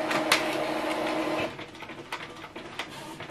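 A Canon TS9155 inkjet printer runs an alignment page, its mechanism whirring steadily and fairly close, with a few sharp clicks and a quieter shift in motor tone partway through.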